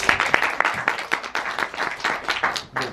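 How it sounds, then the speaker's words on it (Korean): Applause from a cinema audience at a film talk event, with sharp individual hand claps standing out in an uneven rhythm over a moderate ripple of clapping, close and fairly loud. "박수 한번 주시면"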